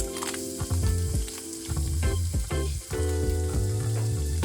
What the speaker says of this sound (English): In a hot pan we add the diced bacon and we sear until golden and crisp. We then add the minced meat.